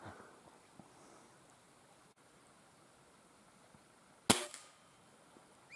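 Single sharp air rifle shot at a possum at night, one crisp crack midway through an otherwise faint, quiet outdoor background.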